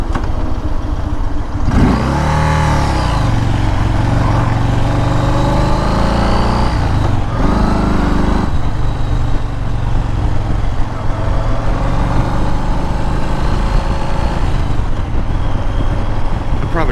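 Engine revving hard in first gear on a flooded rural road, a loud sustained roar that rises and falls in pitch with several surging sweeps, close and unbroken, with no talking.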